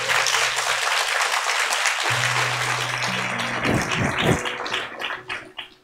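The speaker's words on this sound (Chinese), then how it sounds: "来给自己一个掌声好不好？" Graduates applaud themselves at a physical therapy white coat ceremony at Tzu Chi University. The dense, continuous clapping fills the hall over a low steady hum and fades out at the end.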